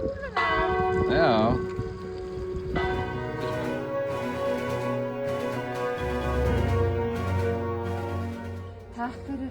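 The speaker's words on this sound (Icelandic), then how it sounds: "verið að hringja bjölluna fyrir þig" A church-style bell is rung for a graduate, steady ringing tones sustained throughout alongside voices and clattering crowd noise.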